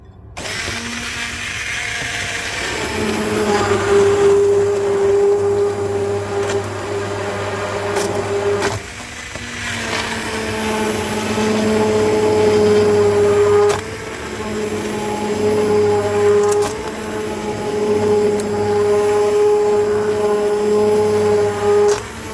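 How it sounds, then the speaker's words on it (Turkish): A blender purées red lentil soup, whirring loudly and continuously, its motor pitch shifting as it runs, pausing briefly once before starting up again. "Ve blenderdan çekiyoruz."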